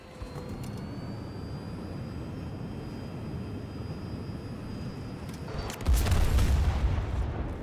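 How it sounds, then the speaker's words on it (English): A jet aircraft roars steadily in Battlefield 2042 gameplay, with a loud rumbling boom swelling near the end as it comes down to land. "did I land my jet in your face?"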